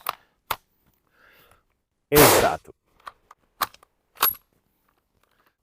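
Carcano rifle shots ring out as a few sharp, loud reports spaced over several seconds, one heavier blast in the middle, with a brief spoken word between them.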